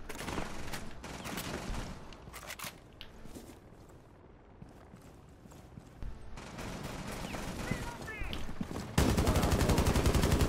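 In Rainbow Six Siege, close bursts of rapid gunfire mix with footsteps and game noise and grow louder toward the end, where a dense, sustained volley takes over.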